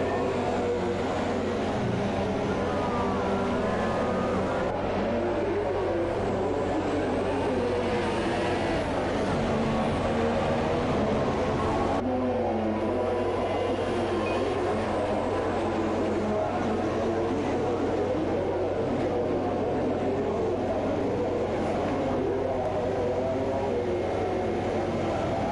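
Formula 2 race cars on a warm-up lap at the Italian Grand Prix give off a steady, broad engine roar with rising and falling pitch sweeps as they accelerate hard and brake, continuous throughout.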